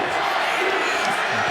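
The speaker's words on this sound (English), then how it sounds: "And crowd's chanting BYU." A stadium crowd at a BYU versus Boise State college football game chants BYU, a steady loud roar of massed voices filling the whole stretch.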